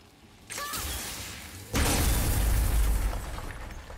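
A crystal shot and blown apart in the God of War video game: a sharp burst with a whooshing rise, then a heavier booming explosion that rumbles on and slowly fades.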